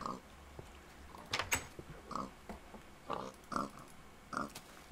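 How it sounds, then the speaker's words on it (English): Pigs on a video-game pig farm, where they keep spawning, give a string of short, soft grunts and oinks at moderate distance, spread across a few seconds against a quiet background. "Oh, there's a piggy there."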